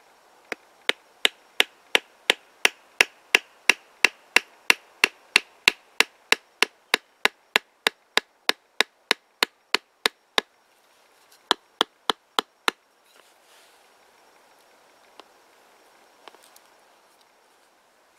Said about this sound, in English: I wanna use my knife. I wanna go ahead and baton and split both of these ends